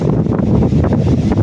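Strong wind buffets the microphone outdoors on the water during a fishing outing, a loud, continuous low roar with gusty surges and rustling, no voices.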